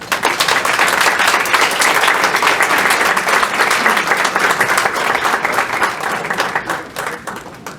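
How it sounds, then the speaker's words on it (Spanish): A crowd at a library day event gives sustained, warm clapping to welcome a speaker, dense and even throughout before thinning toward the end. "Recibámoslo con un afectuoso aplauso."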